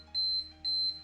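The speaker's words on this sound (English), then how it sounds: "Timer went off." A household timer goes off with two short high-pitched electronic beeps in quick succession, clear and close in a quiet room.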